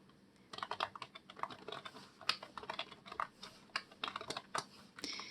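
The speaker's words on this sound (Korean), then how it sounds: "자, 밑으로 내려가면서 타이핑을 하도록 할게요" Keystrokes on a computer keyboard during a word-processor exam exercise, a quick, irregular run of light clicks close to the microphone, alone and fairly quiet.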